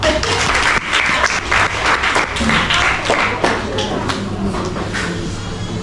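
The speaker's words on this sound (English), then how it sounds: "Let's give her a clap." Students clapping together in a room, a lively burst of applause that holds steady and close, with voices mixed in beneath the clapping.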